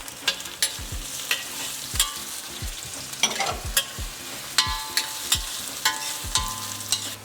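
Chopped ginger, garlic and onions stir-fry in a pan for a geoduck dish, with a steady sizzle broken by repeated sharp scrapes and clacks of a utensil against the pan in an irregular rhythm, close and fairly loud.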